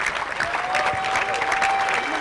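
Spectators applaud at a tennis trophy ceremony on stage, with a loud, continuous wash of clapping while a voice briefly sounds over it.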